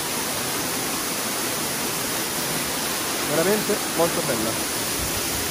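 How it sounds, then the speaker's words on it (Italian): Broad, steady roar of a large waterfall at Cascate del Tuorno in Basilicata, a constant rushing wash of water filling the scene, with a person briefly speaking over it near the end. "Ecco la famosa cascata grande"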